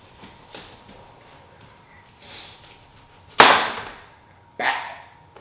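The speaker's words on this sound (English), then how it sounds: "Chop him down in the middle. It's a big watermelon, dog." A knife chops through a big watermelon, giving two sharp, loud cracking strikes about a second apart, with a few softer knocks before them in a quiet room.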